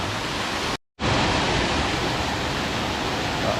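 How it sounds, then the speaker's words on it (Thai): Steady roar of Tad waterfall near Thakhek in Khammouane, Laos, a dense broadband rush of falling water that cuts out for an instant and returns at full strength. "งามขนาดเลย น้ำตกตาดเนี่ย"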